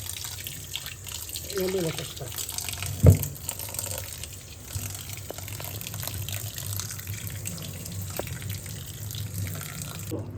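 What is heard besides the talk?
pouring cold tap water over cooked shavige vermicelli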